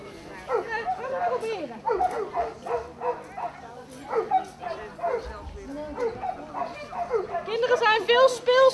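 A dog yips, whimpers and gives short barks in repeated bursts during trick training, mixed in with people talking nearby.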